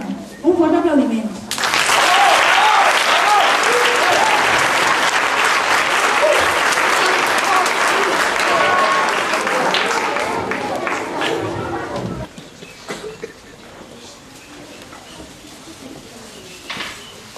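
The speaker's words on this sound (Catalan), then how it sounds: "Un fort aplaudiment." Loud, sustained audience applause at a Christmas concert, swelling quickly after a brief voice and holding for about ten seconds before fading into scattered claps and murmuring.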